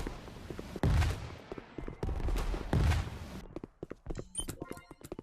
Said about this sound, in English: I guess the guy must have been using a sniper rifle